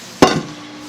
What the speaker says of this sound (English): dump it right out onto our floured countertop